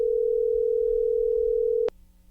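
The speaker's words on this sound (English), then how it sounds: "So first, let's get on the phone with Big Body Bes." A steady telephone dial tone hums loud and unbroken for almost two seconds as a phone call is started, then cuts off abruptly, leaving faint line noise behind.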